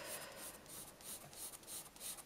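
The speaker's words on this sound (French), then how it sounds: "fais des coups de crayon dans le même sens, donc je fais des lignes obliques" A graphite pencil shades on paper in repeated oblique strokes of the same direction, making soft, rhythmic rubbing scratches, close but quiet, with no one speaking.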